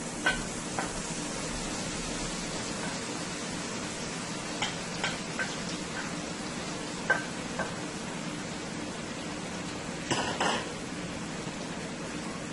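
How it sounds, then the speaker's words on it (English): Mixed masala for a Guyanese cabbage curry fries in hot oil over medium heat, giving a soft, steady sizzle with occasional faint ticks and stirring clicks, close by and fairly quiet, with no talking. "you want to fry this nicely into your oil on medium heat for about 4 to 5 minutes"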